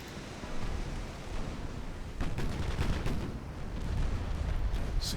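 Six-inch naval guns firing in a Greek naval campaign game, a dense rumbling barrage of repeated booms and cracks that thickens after the first couple of seconds, loud and continuous with no talk.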